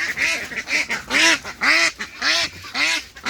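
Egg-laying ducks quacking close by, a run of about eight loud, nasal calls in an uneven rhythm with no talk over them.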